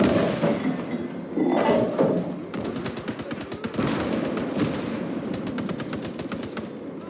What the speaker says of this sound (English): Oh, what was that? So that's an AA gun.